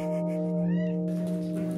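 A small cat gives a single rising-and-falling meow near the middle, set against a loud, steady tonal hum of background music.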